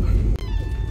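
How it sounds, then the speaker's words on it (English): A kitten at a spay and neuter day lets out a short, loud, close meow, a single clear wavering cry with a little room noise behind it. "We got another kitten."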